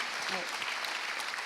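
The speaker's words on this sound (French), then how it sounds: "On peut les applaudir." Audience applause for the finalists at the 2016 creators' challenge final on Réunion, a steady dense clapping wash filling the whole moment, with a faint voice briefly audible underneath.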